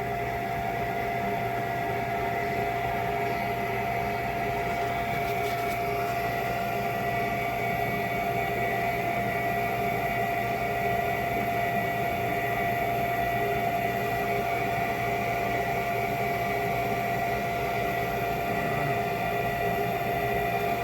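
Trane gas furnace with its inducer motor running, a steady droning whir with a constant mechanical hum that holds unchanged throughout, close and moderately loud.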